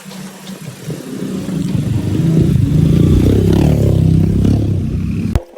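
A motorcycle engine runs close by on a congested road, its steady mid-pitched drone swelling and holding as it revs, then cutting off abruptly near the end; no speech.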